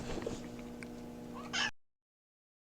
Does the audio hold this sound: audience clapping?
no